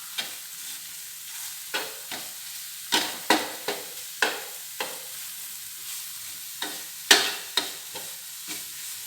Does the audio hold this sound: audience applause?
no